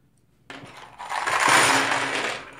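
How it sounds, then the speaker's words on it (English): Plastic keycaps for an Ergodox keyboard rattle and clatter close up after a quiet start, with a loud, continuous shuffling jangle of loose caps. "Next, I'm going to install the keycaps."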